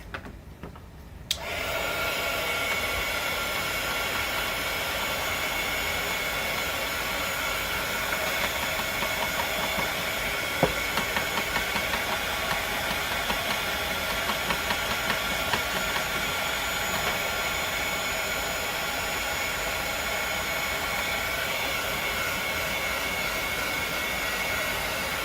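Hair dryer blowing steadily to dry paint, a constant close whir and hiss starting after a brief quiet moment and running unbroken throughout, with no talk.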